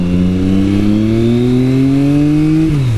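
Triumph Speed Triple motorcycle engine pulling steadily while riding, a loud, close, rising drone that climbs through the revs and drops sharply near the end as the rider shifts.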